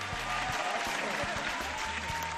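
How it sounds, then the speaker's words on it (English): Audience clapping on a Nigerian TV variety show comes in a dense, steady burst, with low musical thumps underneath and voices mixed in. "I'm going to clap."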